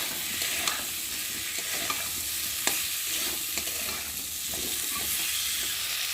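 Potatoes sauté with spices in hot oil for a rohu fish curry, with a steady close sizzle and occasional scraping clicks of a stirring spoon against the pan.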